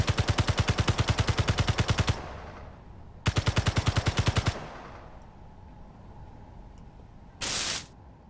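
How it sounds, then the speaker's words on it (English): In Space Engineers, rapid automatic gunfire hits a ship in two loud bursts, each roughly a second or two of evenly spaced shots, separated by a pause and followed by a short burst of hissing noise. "I'm gonna keep shooting it"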